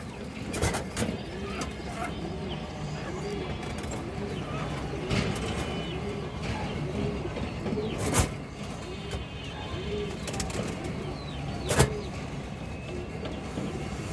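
Indian high flyer Kaldom pigeons coo in a repeated, soft rolling pattern over steady background noise, with a few sharp clicks and knocks breaking through.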